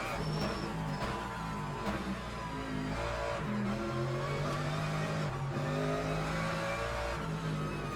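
An MG GT3 race car in the Le Mans Ultimate racing game, its engine droning steadily and rising and falling through gear changes with faint tire noise, heard alone without talk.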